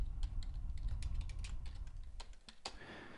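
Fingers tap out a caption on a computer keyboard, quick irregular clicks at close range that thin out and stop with a last sharp keystroke near the end.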